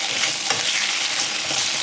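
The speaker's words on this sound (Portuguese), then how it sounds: "E aí você vai fritando até dourar a cebola" Onions and sausage sizzle and crackle steadily in a hot pan, a close, continuous frying hiss with no talking.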